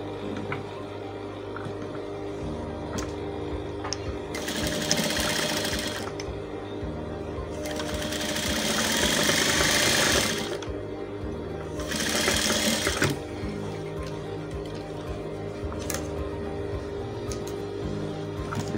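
A sewing machine stitches a seam on a vintage shirt in three sustained runs of steady mechanical whirring, fairly close, with a quiet hum and small ticks between the runs.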